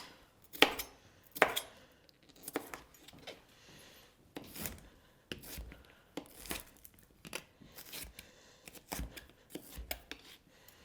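Vegetables are rough-chopped with a knife on a cutting board during home plant-based meal prep: about a dozen sharp, irregular strikes, close and fairly loud, with short pauses and no talking.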